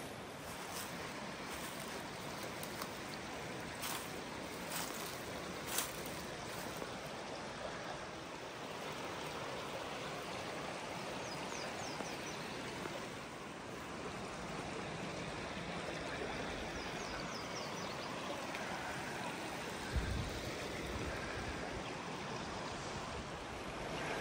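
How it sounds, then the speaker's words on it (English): Mountain creek or river flowing near a campsite in Junaleska, a steady rushing wash of water that stays even and continuous throughout with no voices. "a little bit more creek noise, river noise"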